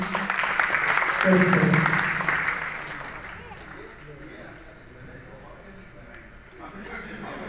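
Audience applause welcoming a speaker at a retirement programme at the Kalisindh Thermal Power Plant, strongest at the start and then fading into a quieter room murmur, with people talking over it.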